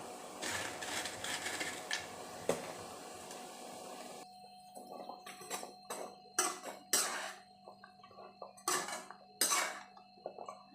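A utensil scraping and clinking against a pan of bread halwa cooking in sugar water, in irregular strokes, preceded by a sizzling hiss, fairly quiet and close.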